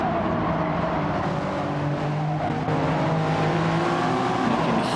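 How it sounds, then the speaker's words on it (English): Toyota GR Cup race cars circle the Nurburgring in a racing video game. The engines drone steadily and loudly throughout, with tire screech mixed into the constant roar and no talking heard. "You can hear the tires screeching there."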